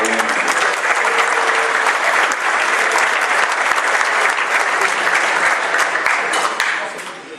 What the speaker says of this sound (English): One more round for Phil Seuling.